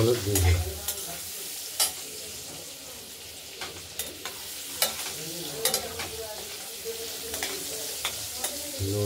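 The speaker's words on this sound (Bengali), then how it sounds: "আমরা কড়াইতে এই আলুটা ভাজার সময় নুন হলুদ দিয়ে দিলাম।" Potatoes fry in a wok with salt and turmeric, a steady close sizzle broken by repeated scraping clicks of stirring, with no one talking.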